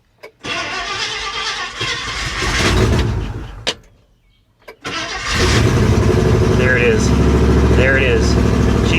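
An abandoned International truck engine cranks and catches on carburetor cleaner, sputtering, dying briefly, then starting again and settling into a loud, steady running rumble close by, with voices over it.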